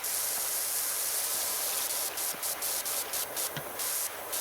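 A pressure washer sprays a house roof in the game PowerWash Simulator 2, a steady loud hiss of water jet running throughout with brief interruptions near the end.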